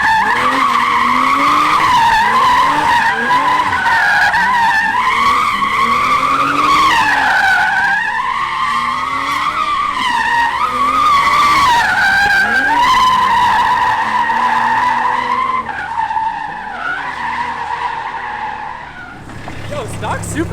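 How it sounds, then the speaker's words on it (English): A stock Toyota Supra MK4 spins a donut. Its tires squeal loudly and continuously for about twenty seconds, the pitch wavering with each rotation, before easing off near the end. "I will induce a donut right here."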